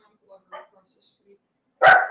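Several short dog barks from a distance, spaced irregularly, ending in one loud, close bark.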